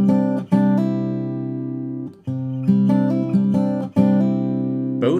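Guitar fingerpicking from a song: a low bass note with strings 2, 3 and 4 plucked together, repeated in a steady rhythm of sustained, ringing chords, close and clear.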